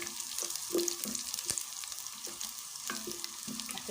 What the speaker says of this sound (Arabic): نحط عليها بقى 4-5 فصوص توم تشويحة مع بعض